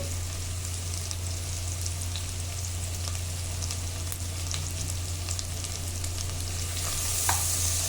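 Onions frying with salt and turmeric in a pan crackle in a steady, even sizzle with light spatters, over a low constant hum, no voices.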